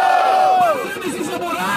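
A loud crowd at a rap battle roars and shouts together, voices overlapping in a burst of cheering.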